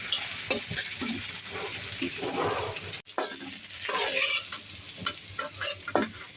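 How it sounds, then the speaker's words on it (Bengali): Garlic, green chilies, potatoes and dried chilies frying with spices in a pan give a busy, crackling sizzle with stirring scrapes. A short gap falls midway, then louder spattering returns. "এখন আমি রসুন কাঁচামরিচ আর কিছু আলু ভেজে নেব মশলা দিয়ে নেব"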